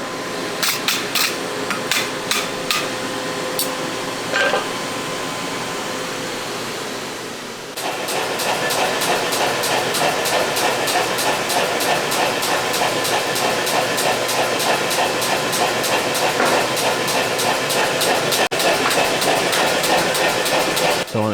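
Steady rapid metallic hammering on hot steel while forging a regular 2-pound turning hammer, with a fast even rhythm of strikes that turns denser and louder after a brief pause, close and continuous with no talking.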